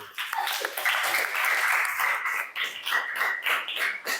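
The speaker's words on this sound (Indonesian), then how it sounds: "Oke, kita beri aplaus untuk kelompok 1." A classroom gives applause for a group of students, light clapping from many hands with a voice talking over it.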